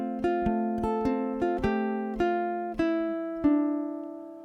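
Two measures of a Travis-picking etude are fingerpicked on ukulele, about ten plucked notes in a steady, even rhythm, the last one left ringing out. The notes are soft and close, with nothing else heard.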